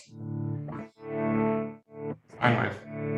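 A ZOIA pedal tremolo driven by a square wave chops a sustained, tone-rich guitar signal on and off, giving abrupt chunks of sound separated by short near-silent gaps.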